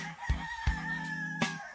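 A rooster crows in the rural Philippines, one drawn-out call sounding faint and distant, with a few sharp knocks closer by.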